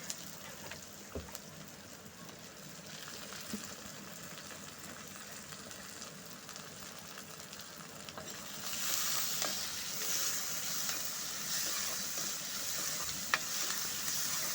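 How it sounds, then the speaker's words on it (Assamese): Ginger-garlic paste fries in hot oil with a steady sizzle and occasional stirring scrapes; the sizzling grows louder and brighter partway through. "আদা আৰু নহৰু পিচি তেলতে ভাজি ল'ব"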